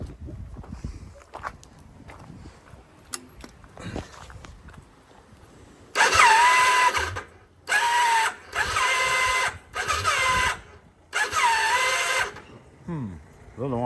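A Yamaha Virago 535 motorcycle engine cranks on the starter in five separate bursts of churning whir after some quieter handling noises, each burst loud and close, with short gaps between.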